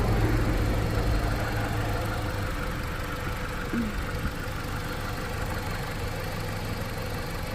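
A 2012 Jeep Patriot's 2.4-liter engine idles under an open hood with a steady, even rumble and hum, close by and continuous with no talk.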